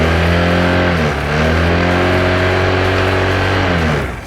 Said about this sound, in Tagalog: Yan po yung tunog ng makina.